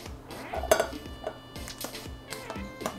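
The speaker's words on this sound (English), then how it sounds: "Pop those beans into the non-stick frying pan." Red kidney beans tipped into a non-stick frying pan, giving close clinks and knocks of metal cookware, with one sharper clatter near the start and lighter taps afterward, no voices.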